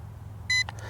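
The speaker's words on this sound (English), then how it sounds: "One beep, that tells us we're in low speed mode." A single short electronic beep from the remote controller of an MJX Bugs 19 drone, signalling low speed mode, a clear, bright tone standing alone over a quiet low hum, followed by a faint click.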